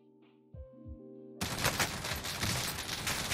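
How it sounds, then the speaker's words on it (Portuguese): Gunfire in the game Call of Duty Warzone: after a few quiet tonal interface notes, a loud sustained burst of rapid automatic shots erupts and continues densely to the end. "alguém atirou em mim"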